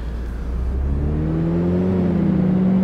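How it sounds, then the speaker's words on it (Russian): A worn, used Bentley engine accelerates with harsh, strained noise, a loud, close drone whose pitch climbs steadily and then holds, with no voices. "Шумы, конечно, жесткие какие-то раздаются при ускорении."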